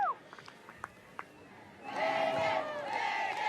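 A golf crowd at the Solheim Cup Sunday singles cheers after a putt drops, a broad roar of many voices rising suddenly and holding loud, following a quieter stretch of a few faint voices and scattered calls.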